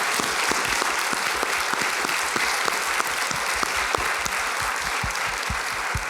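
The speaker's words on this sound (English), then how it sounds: "Let's give her a round of applause," Round of applause from the crowd at an award ceremony, dense steady clapping from a sizeable audience, with a few louder claps and low thumps punctuating it throughout.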